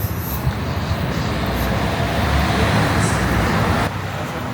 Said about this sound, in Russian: Тут начинаются автобусы, остановка.